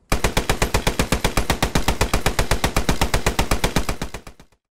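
A Vickers machine gun fires in the war video game Post Scriptum: one loud, even burst of about thirty rapid shots in a steady rhythm that stops sharply, with no talking.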